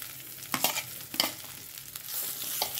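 Boiled potatoes being stirred into cooked masala in a pan on medium heat for spinach samosa chaat, giving a few scraping stirs with a soft sizzle underneath, close and moderately loud with no talking.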